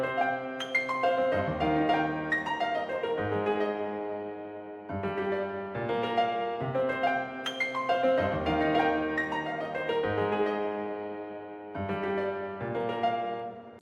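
Nexus pizzicato strings preset layered over a beat pattern, short plucked string notes in a repeating rhythmic phrase with brief gaps between bars, played clearly with no talking.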